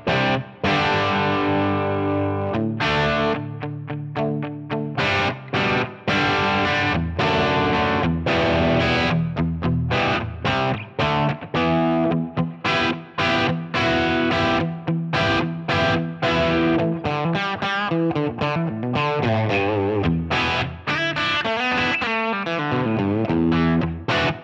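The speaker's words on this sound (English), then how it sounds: "I'm playing my Gibson SG today," Gibson SG electric guitar played through the Line 6 Helix Voltage amp model with a little reverb: loud, continuous distorted chords and riffs ringing on without pause, no voices.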